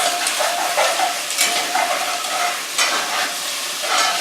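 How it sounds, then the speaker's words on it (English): Cubed tofu sizzling in a hot pan for a vegan pot pie, stirred in a few quick scrapes, with steady close frying crackle and soft utensil clinks, no talking. "You just want to keep giving your tofu a couple quick stirs."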